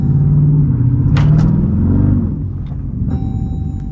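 A Jeep Grand Cherokee Trackhawk, unsupercharged, revs and pulls hard on a wet road in the rain, its loud, deep engine rumble rising and then easing off, with a brief higher whine near the end.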